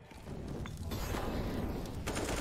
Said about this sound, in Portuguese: Tiro. Tiro.